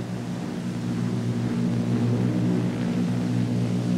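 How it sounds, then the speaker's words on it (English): Large Consolidated airplane landing on a runway, a loud, steady droning of propeller engines with a low rumble, close and continuous throughout. "Everyone waits for the squeal that will tell you when the big wheels have touched the runway."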